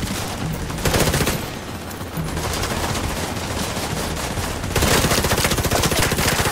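Sustained rapid gunfire in The Division 2 co-op on Roosevelt Island, dense automatic bursts running almost continuously and loud, with brief shifts in intensity and no talking.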